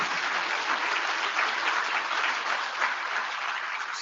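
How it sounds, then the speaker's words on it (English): A large conference audience at an internet engineering plenary session applauds, a continuous, dense wash of clapping heard from within the hall, steady and fairly loud throughout. "I think you're going to get a lot of applause now"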